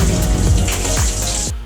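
A cold shower running at home, steady broadband hiss of falling water close by, continuous and loud, cutting off abruptly near the end.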